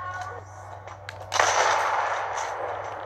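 Sniper shot in a video game fired as a single sharp, loud crack that rings out with a long, noisy decay over a low steady hum.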